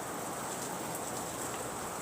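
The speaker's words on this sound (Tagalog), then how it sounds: "Ulan-ulan na naman." Steady hiss of rain falling and pattering on surfaces, constant and fairly loud with no voices.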